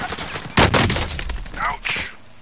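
Warzone video game gunfire: a loud burst of shots cracks in and rattles for about a second and a half, then another volley follows, with a player's voice briefly mixed in.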